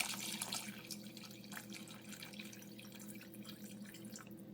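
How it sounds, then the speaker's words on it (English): A cup of water is poured into a pot of red beans, a soft splashing trickle that starts strongest and tapers to quiet dripping, fairly faint and close. "So I add my beans to the pot. I'm gonna add another cup of water."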